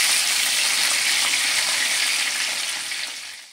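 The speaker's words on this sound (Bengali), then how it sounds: "খুব ভালো করে উল্টে পাল্টে মাছ আমি ভেজে নিয়েছি" Pabda fish (butter fish) sizzling as it fries in hot oil, a steady close crackle and hiss that holds evenly before tapering off at the end.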